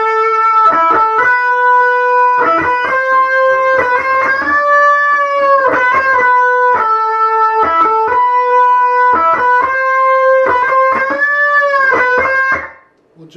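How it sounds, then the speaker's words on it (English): Distorted electric guitar plays the outro lead of a song: sustained, bending lead notes in repeated phrases with rhythmic chugging stabs between them, loud and close, cutting off at the end. "Okay, the outro lead, which comes in about the fourth measure of the outro chorus, will sound like this."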